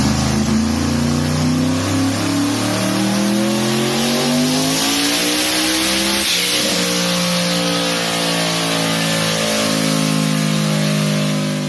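A tuned car's engine revs hard on a dyno, loud and sustained, its pitch climbing in long sweeping harmonics, dipping briefly near the middle, then rising again.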